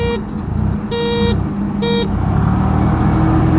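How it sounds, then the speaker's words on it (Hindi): Three loud car horn blasts sound close by over a steady engine rumble: one short toot, then two longer honks, before the vehicle begins accelerating at full throttle. "will start with 3 horns"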